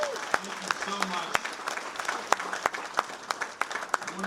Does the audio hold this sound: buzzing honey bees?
no